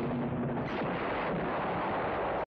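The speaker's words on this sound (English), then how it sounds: "And then a nuclear bomb went off?" A loud, continuous booming explosion from a low-budget movie fight scene, a dense roar that fills the whole clip without letting up and cuts off abruptly at the end.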